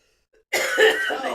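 A man coughs and clears his throat, a single rough, throaty burst lasting under a second, close and loud with no talk over it.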